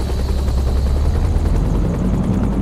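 A helicopter in the American Truck Simulator game flies low near a rock cliff, its rotor drone a steady, loud, continuous rumble with a faint pulsing chop and no voices over it.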